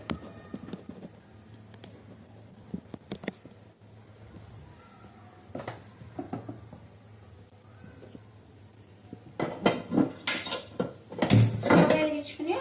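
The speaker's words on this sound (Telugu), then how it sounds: "దానికోసం మనం ఒక బాండీ పెట్టుకుని దాంట్లో కొద్దిగా ఆయిల్ వేసుకుని" A wok is set down on a home kitchen stove and cooking oil is added while preparing dondakaya (ivy gourd) curry: scattered close metal clanks, then a busier burst of pan and utensil clatter near the end.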